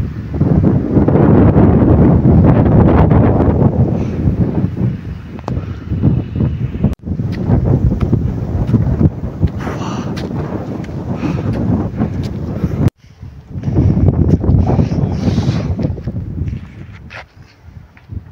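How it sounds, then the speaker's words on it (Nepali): Cold wind blows over Thoyor hilltop above Barpak village in Nepal, hitting the microphone in loud, rough buffeting gusts that cut off abruptly twice and then return, with no talking. "त्यहाँबाट चाहिँ चिसो चिसो सिर्सिर हावा चलिरहेको छ कि"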